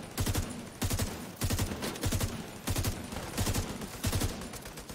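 Automatic gunfire from a low-level gun in a video game comes in short, regular bursts of rapid shots, loud and close, with no talk over it.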